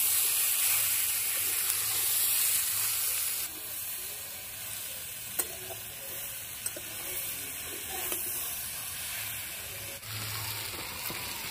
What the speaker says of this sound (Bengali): সবজিগুলো ভালো করে নেড়ে দেবো।